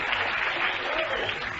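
A theatre audience cheers and applauds a band, a dense, steady roar of clapping and shouting that fills the room for a short moment.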